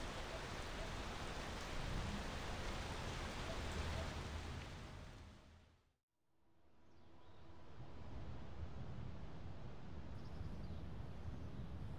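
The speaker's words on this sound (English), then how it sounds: "hopefully the sun's up and this rain is cleared" Steady rain falling in the video game Space Engineers, a continuous dense hiss of drops that fades out to near silence midway and then swells back to the same even downpour, with no talking.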